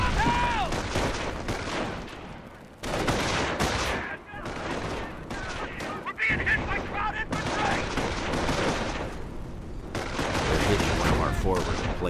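Battlefield gunfire in the World War II strategy game Company of Heroes: dense bursts of rifle and machine-gun fire in rapid volleys, loud and close, broken by brief pauses, with game voices shouting over it.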